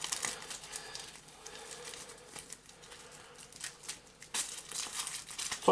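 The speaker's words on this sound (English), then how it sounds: "just shuffle this again because I dropped a few cards face up there" Cards from an Arkham Horror 2nd Edition board game are shuffled by hand at a table, making a papery riffling and crinkling that comes in uneven bursts, close and fairly quiet, ending with a louder flurry.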